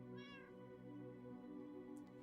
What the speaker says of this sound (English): What's going on, kitty cat?